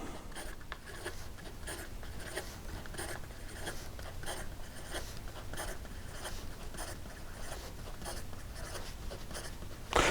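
A Leonardo Momento Zero Blue Hawaii fountain pen scratches quickly across paper in fast writing, with close, soft, rhythmic strokes and no talking.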